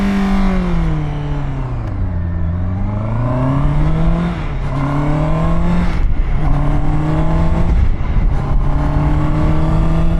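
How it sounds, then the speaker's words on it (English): A Honda CB650R motorcycle's inline engine hums steadily while riding, its pitch dipping and climbing through gear changes made with a quick shifter, loud and continuous with no talking. "Now this CB650R engine is awesome."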